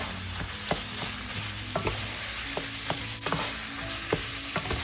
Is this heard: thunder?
no